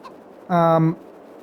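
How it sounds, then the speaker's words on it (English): A single short, harmonic cluck from a chicken in the farming game Farming Simulator 22 on PS5, loud and close, lasting about half a second against quiet background. "Wait, we have 240 chickens now."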